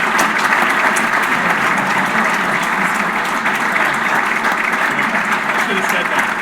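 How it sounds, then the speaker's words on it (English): A large audience applauds loudly and steadily for a Hall of Fame inductee at an education foundation celebration, a dense wash of clapping that holds throughout. "She deserves the biggest round of applause."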